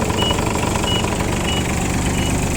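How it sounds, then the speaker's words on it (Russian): A small Japanese mini tractor fitted with a soil tiller idles steadily, its engine giving a dense, even, close chugging drone with no change in pace. "Двигатель работает ровно"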